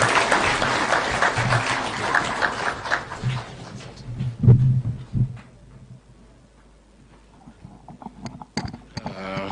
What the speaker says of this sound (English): Can we have a round of applause for the Deputy President?